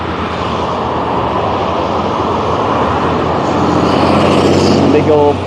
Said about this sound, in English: Big old Peterbilt.